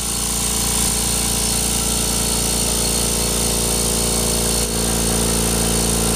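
A Kobalt Quiet Tech 4.3-gallon air compressor runs with a steady, even motor hum and faint rhythmic pulsing. The sound holds constant, with one brief dip near the end.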